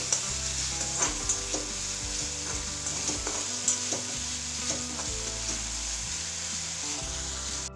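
Green chili paste with ground coriander and cumin frying in hot oil, a steady close sizzle broken by the scrape and clatter of stirring, with no voices.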